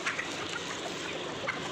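Chickens in a dusty village yard clucking as they are given feed, faint and scattered with a couple of brief calls standing out over a soft outdoor background.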